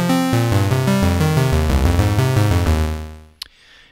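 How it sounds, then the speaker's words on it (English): Ableton Wavetable synthesizer set between saw and square plays buzzy, harmonically rich chords and shifting notes, loud and dense, then cuts off abruptly with a faint click and a short fading tail. "I'm just going to put wavetable on something between saw and square"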